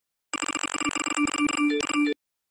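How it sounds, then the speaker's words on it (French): A phone in a Roblox game rings loudly, a dense electronic bell-like trill repeating rapidly for about two seconds with no other sound around it. "À qui est ce téléphone qui fait autant de bruit?"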